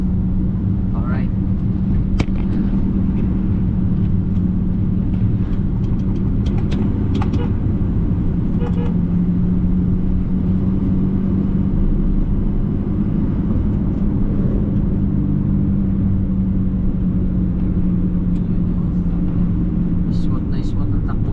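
Car cruising smoothly along a road on a road trip, a steady low engine and tire rumble throughout with faint scattered rattles inside the cabin, and a voice speaks over it.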